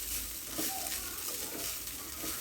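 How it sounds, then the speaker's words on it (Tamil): Homemade tomato rice is stirred in a pan, giving soft, scraping, rustling movements with a faint sizzle underneath, quiet and close, with no talking. "நல்லா கிளறி விட்டுக்கலாம்."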